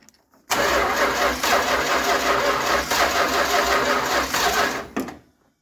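A 1966 Chrysler New Yorker, parked for 18 years with its timing slightly out, cranks over in one loud, steady churning run of about four and a half seconds before cutting off.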